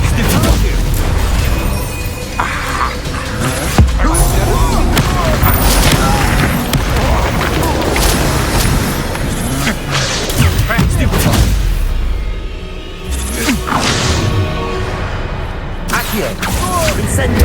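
In the Hogwarts Legacy video game, an Incendio fire spell bursts amid continuous booming combat effects, dense rumbling blasts and crackles filling the mix, loud and busy, with a player's voice talking over it.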